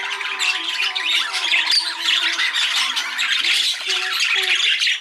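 Budgerigars in a birdroom squawk loudly and continuously, a dense, harsh chorus of many birds close by with no talking.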